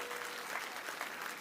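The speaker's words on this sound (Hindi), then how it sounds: "जोरदार ताली बजाओ यशस्वी हमारे अध्यक्ष श्रीमान शुभंकर अध्यक्ष विष्णुदत्त शर्मा जी के लिए" Applause for the party president at a BJP membership drive event in Madhya Pradesh, a steady wash of many hands clapping, heard at a distance and fairly quiet.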